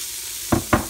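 Onions and peppers in hot oil in an Instant Pot on sauté, a low sizzle broken by two quick thuds as pieces drop into the pot.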